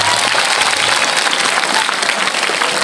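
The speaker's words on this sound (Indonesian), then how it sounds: "Tepuk tangan lah." An audience of schoolchildren bursts into sustained, loud clapping in a classroom during an official education visit in North Sumatra, steady and dense throughout with a few voices mixed in.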